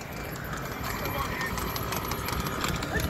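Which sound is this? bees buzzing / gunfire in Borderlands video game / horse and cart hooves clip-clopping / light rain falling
horse and cart hooves clip-clopping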